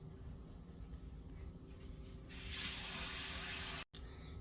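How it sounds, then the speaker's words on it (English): Hands washed under a running kitchen tap, a steady close water hiss that grows louder and fuller partway through as the hands move into the stream, then cuts off briefly; no speech. "So I'm gonna go wash my hands."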